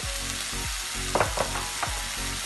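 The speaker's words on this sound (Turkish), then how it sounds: "Şöyle bir iki karıştırma yapıyoruz." Brussels sprouts sizzle and fry in a pan, with a few scraping stirs of a utensil clattering against the pan over the steady hiss; no talking.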